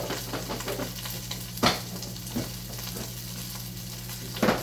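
Fried rice crisps in a hot pan with a constant, close sizzle, punctuated by a few sharp scraping stirs spaced seconds apart, with no voices.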